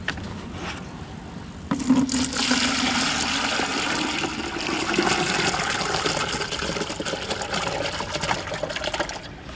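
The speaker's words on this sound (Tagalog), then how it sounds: "Transfer natin to dito sa maliit na lalagyan." Water poured from a large bucket into a small container at a parking area before a kingfish fishing trip in New Zealand, a steady close splashing and gurgling pour that starts abruptly and runs continuously with no talk.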